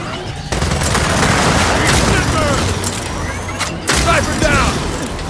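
Dense, sustained gunfire and explosive bursts from a battle in the video game Gears of War 4, loud and continuous with rapid automatic shots layered over booming impacts.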